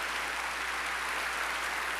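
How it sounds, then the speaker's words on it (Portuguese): A church congregation at a Baptist worship service claps together in a dense, even wash of applause that fills the room without pause. "Você pode aplaudir o Senhor?"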